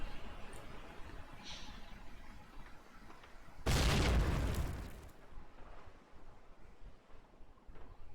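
A grenade blast in the online shooter Call of Duty: United Offensive during a competitive cup match, one sudden loud burst that rumbles for about a second and a half before fading, alone against a low windy background.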